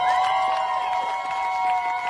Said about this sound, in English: Please, a big applause for them.